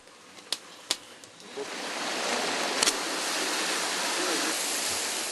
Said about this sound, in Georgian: მიკროჰესის სადაწნეო მილიდან გამომავალი წყალი პელტონის ტიპის ტურბინას აბრუნებს